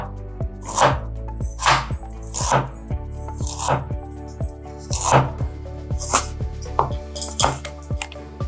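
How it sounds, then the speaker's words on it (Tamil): Close, even rhythm of a knife chopping ginger on a board, one firm strike after another at a steady pace, with no talking. "இஞ்சி சின்ன சைஸ் அளவுக்கு கட் பண்ணிக்கலாம்"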